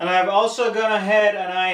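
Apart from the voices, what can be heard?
No everyday noise stands out behind the speech.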